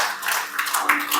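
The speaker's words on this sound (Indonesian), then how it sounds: "Kita berikan tepuk tangan bagi Tuhan Yesus." A church congregation claps together during a worship service, a short burst of dense, steady handclaps filling the room.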